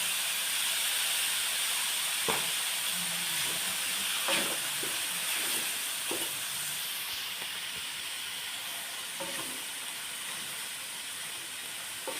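Water poured into a pan still coated with leftover ground spices, for mushroom satay, sends up a steady, loud steam hiss that runs the whole time, broken by a few faint clicks and soft bubbling.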